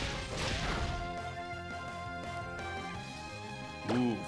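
A Fire Fang attack lands in Pokemon X, a sharp crash-and-whack game hit with a whooshing burst near the start, layered over steady game music, ending in a short bright jingle.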